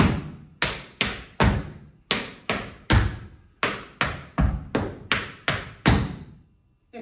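Tap dance shoes strike a hard floor in a steady, crisp rhythm of about fourteen sharp, ringing taps, some doubled close together, each decaying quickly, heard clearly with no talking.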